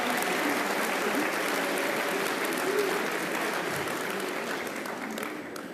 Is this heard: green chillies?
no